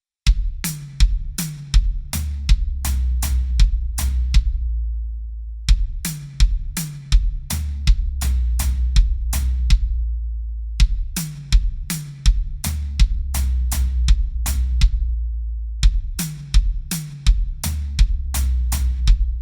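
Drum kit plays a triplet fill pattern of bass drum, floor tom and hi-hat, with sharp hits over deep low thumps, repeated in several looping phrases with brief pauses, close and loud with no voices.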